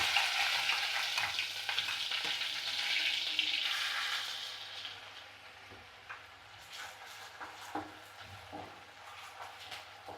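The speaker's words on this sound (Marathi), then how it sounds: "सर्वात अगोदर कांदा घालून घेऊया तेल तापलेलं आहे आपलं" Onion drops into heated oil in a pan for veg soya kheema. A loud hiss opens the sound and fades over about five seconds to a quieter crackle. Scattered light clinks and scrapes of stirring follow.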